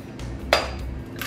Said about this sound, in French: J'adore casser les œufs